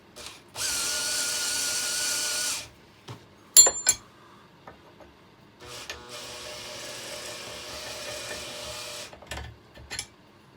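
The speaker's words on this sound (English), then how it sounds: "try and use the motor to tighten the chuck onto the Allen key" A Makita combi drill motor whirs in two loud bursts while tightening its jammed chuck onto an Allen key held in a vise, separated by a sharp clack and handling noises.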